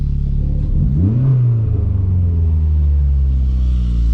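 A turbocharged Mazda Miata engine revs up loudly on a dyno, its pitch sweeping upward, then settles into a deep, sustained, rumbling drone close by.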